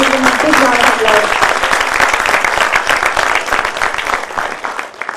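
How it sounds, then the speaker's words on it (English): Loud, dense applause from a large audience at a graduation ceremony, with cheering and voices mixed in, tapering slightly toward the end. "So let's just give them a big round of applause."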